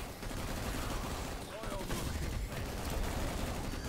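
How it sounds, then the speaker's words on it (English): Rapid bursts of weapon fire in the sci-fi shooter game Anvil: Vault Breakers, a dense continuous volley of gunshot-like blasts that stays loud and close throughout. "I'm not sure what he's firing into the air, but it's like multiple grenades to impact on location."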